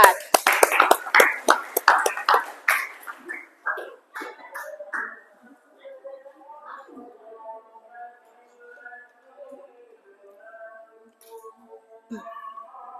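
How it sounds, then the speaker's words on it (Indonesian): Students in a classroom give group 4 a round of applause: a burst of clapping that starts strong and fades out over several seconds, followed by a teacher talking. "Kita berikan aplaus untuk kelompok 4."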